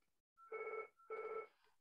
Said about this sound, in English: That's the phone, don't worry about it.